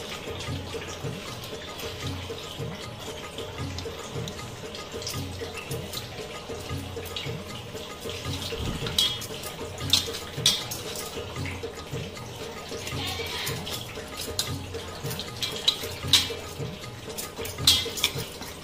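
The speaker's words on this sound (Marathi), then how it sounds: "थोडं पाणी टाकलं." Water poured while mixing flour dough for Agri-style mutha, a soft running trickle with wet handling sounds and a few light clinks of vessels, quiet and close.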